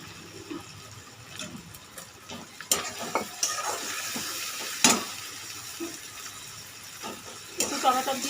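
Fish curry with rup chanda fish being stirred in a pan, wet bubbling and clattering utensil scrapes in uneven bursts, close by, with a voice faintly present.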